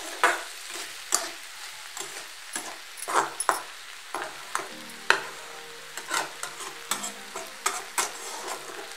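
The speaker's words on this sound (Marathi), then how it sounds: "परत एकदा हे सगळं हलवून घ्या" A spoon stirs radish pod sabzi in a pan over a gas flame. Repeated close scrapes and clatters come in an uneven rhythm over a soft background sizzle, with no voices.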